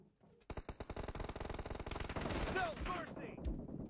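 Rapid automatic fire from an M416 rifle in the mobile battle royale game PUBG Mobile, a dense sustained burst of evenly spaced sharp shots lasting several seconds, with faint voices and game effects underneath.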